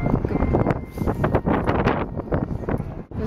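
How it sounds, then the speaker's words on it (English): Wind buffets the microphone in a constant, close rumble with gusty swells and rustling, loud enough to drown out most other sound, at National Harbor, Maryland. "It's kind of windy still."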